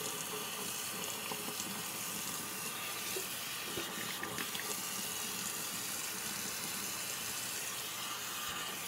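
A bathroom tap runs steadily with water splashing into a sink as a face is rinsed after a shave, a constant close hiss without speech.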